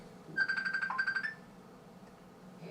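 A phone ring sound effect plays once as a short, bright, trilling electronic burst of rapid repeated pulses lasting about a second, then stops, leaving quiet room tone.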